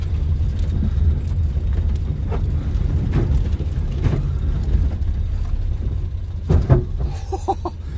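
Car underbody scraping and thumping over ruts and bumps on a rough Northern Classic trial section, a steady low rumble of the vehicle broken by scattered knocks and a sharper jolt near the end, with no talk.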